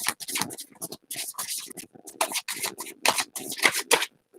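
Oracle cards are shuffled and pulled from a deck in a series of close, crisp papery flicks and slides, irregular in rhythm, with no talking.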